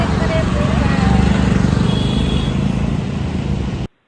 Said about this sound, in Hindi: पीछे ट्रैफिक है और ट्रैफिक का अच्छा खासा नॉइज आ रहा है